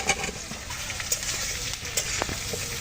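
Vegetable stalks and potatoes fry in hot oil for mung dal khichuri, a steady sizzle broken by scattered stirring scrapes and light clinks of a spoon against the pan, with no talking.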